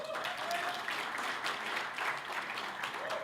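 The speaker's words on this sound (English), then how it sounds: "can we just have a quick round of applause just to practice?" A conference audience at a panel discussion gives a brief practice round of applause, fairly quiet and steady throughout with no talk over it.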